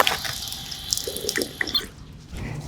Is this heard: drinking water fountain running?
yes